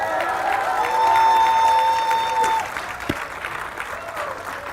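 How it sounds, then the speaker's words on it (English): A crowd at a groundbreaking ceremony applauds and cheers, a broad roar of clapping with a sustained whistle or tone above it, dropping abruptly midway to a quieter murmur with a lone thump. "let's give them all a strong round of applause"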